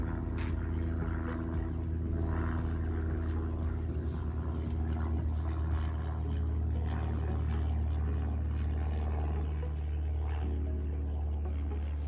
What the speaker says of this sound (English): I didn't even know a plane was flying around. I'm gonna wait till it passes.